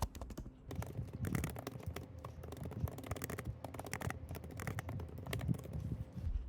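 Someone types on a computer keyboard in a quick, continuous patter of soft, close key clicks, with brief pauses between bursts.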